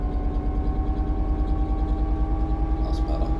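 Class 66 diesel locomotive engine in Train Sim World, a steady low throbbing drone with a strong pulsing beat, running continuously and loud with a faint higher clatter near the end.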